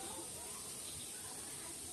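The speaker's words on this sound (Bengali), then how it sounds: "তা বন্ধুরা দেখো প্রায় কমপ্লিট ভাজা" Palm fruit fritters (taler bora) deep-frying in hot oil give a steady, dense hiss that stays close and even for the whole stretch, with no pauses or bursts.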